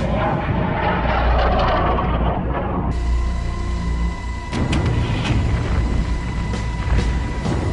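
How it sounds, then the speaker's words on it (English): Hellfire missiles fired from a US Army Kiowa helicopter, heard as loud booming blasts and rushing roars that carry on over sustained heavy rumble, with sharp bursts punctuating the later part. "the second Kiowa, which can now launch its Hellfire missiles at it."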